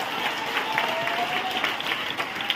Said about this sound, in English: Clap your hands unto the Lord one more time.